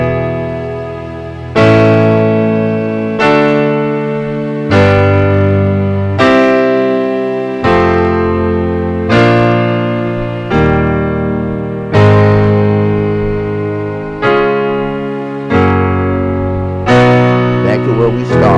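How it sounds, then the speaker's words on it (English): Gospel-style piano chords, major triads in the right hand over perfect-fifth intervals in the left, stepping through a sequence of about a dozen sustained, evenly spaced chords, each struck firmly and left to ring and decay, close and alone. "let's try incorporating the major triad with those perfect fifth"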